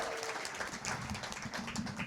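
A live audience at an anniversary radio show applauds steadily, dense clapping spread through the room for the whole stretch with a faint voice underneath.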